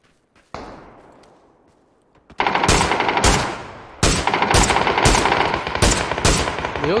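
Loud automatic gunfire fills a PUBG match, with a single shot and then long rapid bursts hammering close by, each burst cut off by short pauses.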